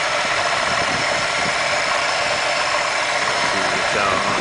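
A 1996 Chevy Caprice wagon's 5.7-litre LT1 V8 engine idles with a steady low rumble and faint mechanical ticking, constant in level from start to finish.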